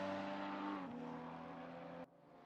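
A GT4 race car engine at Imola in a sim racing game, droning at high revs with a sharp drop in pitch as the driver lifts, then holding steady before cutting off abruptly.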